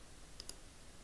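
Two quick, faint computer mouse clicks sound close together over a quiet room hiss while working in Darktable photo editing software.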